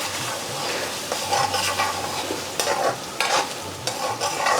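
Railway tawa lamb sizzles steadily on a hot tawa while a utensil stirs and scrapes through it in repeated close, busy strokes, with no talking.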